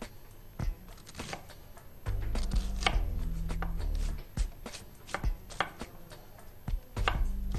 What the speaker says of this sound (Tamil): முதல்ல நம்ம வந்து ஆனியன் கட் பண்ணிக்கிறோம்.